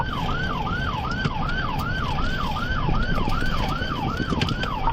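A patrol car siren cycles rapidly and steadily in a fast up-and-down wail through a high-speed pursuit of a minivan, prominent above a continuous roar of road noise and the running engine.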